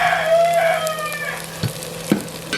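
Shallots, onions, green chillies and curry leaves fry in a pot for a Jaffna-style country chicken curry, a close, bright sizzle with a couple of stirring knocks, while a rooster crows faintly in the background.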